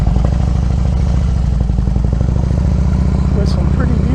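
A Harley-Davidson Road King motorcycle climbs a mountain road through neighborhoods, its loud, close engine throbbing at a steady low rumble while a rider talks over it.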